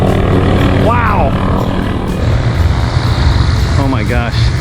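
A trainer aircraft engine drones at the Sun n Fun fly-in in Lakeland, Florida, a steady loud rumble mixed with strong wind noise. Voices speak briefly over it.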